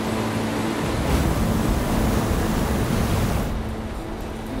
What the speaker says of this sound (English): some of the most treacherous white water in the world